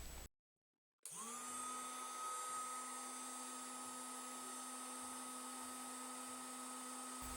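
A cheap cordless heat gun switching on and running steadily, a quiet, even fan whine with a constant tonal hum that holds unchanged for several seconds after a brief silent gap.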